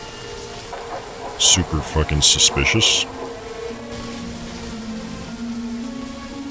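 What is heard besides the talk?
rain falling in the video game Remothered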